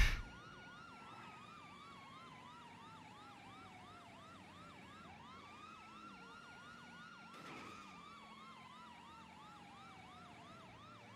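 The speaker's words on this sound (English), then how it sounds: "Okay, that's a police car." A police car siren wails in rapid repeating yelps that shift into slower sweeping tones, fairly distant and steady, with a brief thump partway through.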